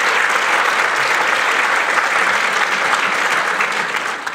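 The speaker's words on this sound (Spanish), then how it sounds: "Un aplauso para él, por favor." Dense, sustained applause from an audience at an accordion group's concert presentation, a steady wash of many hands clapping with no gaps, fading slightly at the end.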